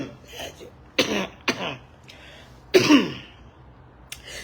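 A woman coughs and clears her throat in a series of harsh bursts, several close together and then a louder, longer one, with a quieter cough at the end and no talking.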